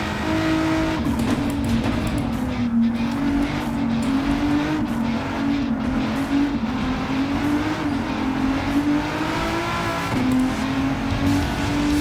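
An engine-swapped VW Golf 7 GTI in Gran Turismo 7 holds a loud, steady high-revving drone with wavering pitch and tire squeal as the wheels spin, with no talking.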